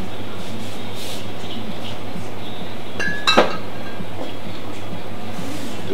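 Glasses and a bottle clinking as a bartender mixes a drink, one sharp ringing clink over a steady loud low rumble of background noise.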